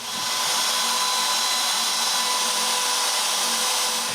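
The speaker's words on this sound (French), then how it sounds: "avec le CNC, je coupe la forme" A CNC machine cuts the shape of a walnut clock box in a steady, loud whir with a broadband routing hiss that holds evenly for the whole stretch, no voices present.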